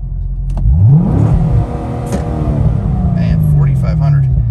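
A sports car engine revs hard for a launch-control start, a loud sustained roar whose pitch climbs and drops under a driver's excited speech.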